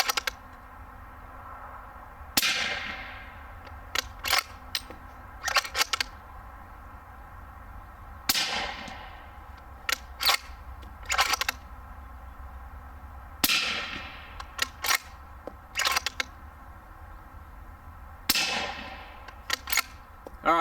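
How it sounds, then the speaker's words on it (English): A suppressed rifle fires Lehigh Defense 194-grain subsonic Maximum Expansion rounds. Four sharp, muffled reports come several seconds apart, each decaying quickly and followed by clusters of smaller mechanical clicks and clacks. "next up to bat, the Lehigh Defense 194 grain maximum expansions. That stayed subsonic."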